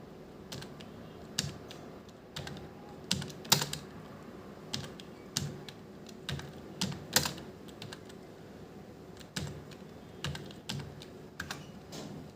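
Hindi text being entered on a computer keyboard with the Mangal Inscript layout: irregular, fairly faint clicks of individual keystrokes arrive in short bursts and pauses, with no one talking.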